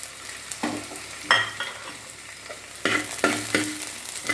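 Green chillies and onions sautéing in a pan, a soft steady sizzle broken by repeated scraping stirs of a spoon, close and alone.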